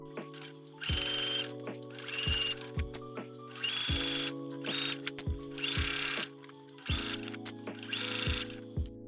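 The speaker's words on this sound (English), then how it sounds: "then we are going to sew it" A sewing machine runs in repeated bursts, stitching gathered cosplay fabric, its motor whirring and needle thumping in steady rhythm with short pauses between runs, close and clear with no talking.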